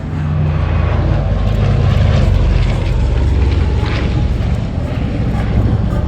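A Lockheed 1049 Constellation propeller airliner passing at an airshow, its piston engines producing a sustained, loud droning roar with a rough propeller beat throughout.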